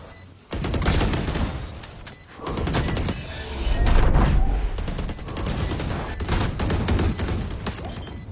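Dense, rapid gunfire in a shooter video game, with overlapping bursts and booming shots continuing for about eight seconds, loud and close throughout.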